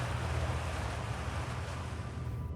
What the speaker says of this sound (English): A geyser, I guess we can hear it from in here.